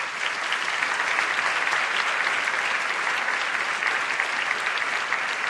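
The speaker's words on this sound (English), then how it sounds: "Give him a big round of applause." An audience gives a big round of applause to welcome a former president of the UN General Assembly, a steady wash of clapping from a large crowd, continuous and even throughout.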